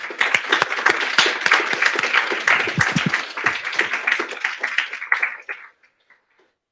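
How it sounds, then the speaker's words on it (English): An audience applauds the morning speakers at a summer systematics institute session, steady dense clapping that fades out after about five and a half seconds. "let's just give all of our morning speakers another round of applause"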